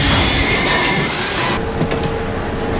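A train halts abruptly on the tracks during heavy rain, a loud close burst of rail noise with grinding wheels that cuts off sharply partway through, leaving a quieter rumble.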